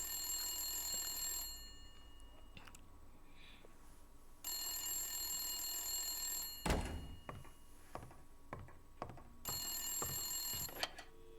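Telephone ringing in the Blacksad video game, two long bursts of ringing separated by quiet, followed by several thunks and handling clatter, fairly faint, with no talking.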